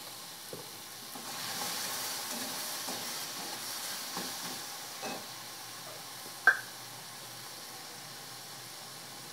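Potatoes with tomatoes and peas sizzle steadily in a frying pan, with a soft continuous hiss, faint stirring scrapes and one sharp clink of the spoon partway through.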